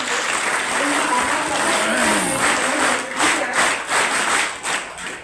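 An audience at a public gathering in Bhilwara, Rajasthan applauds loudly and steadily, a thick continuous wash of clapping with voices faintly underneath, thinning slightly toward the end.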